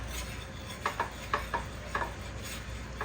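Mozzarella and sharp cheddar being stirred into a pan of taco fries, with several soft scraping clinks of a utensil against the pan over a low steady background hum.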